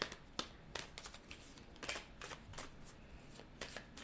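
Tarot cards being shuffled and drawn by hand, a close run of crisp riffles, flicks and soft slaps at an uneven rhythm, fairly quiet and without talk.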